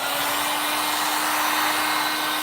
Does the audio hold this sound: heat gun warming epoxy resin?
yes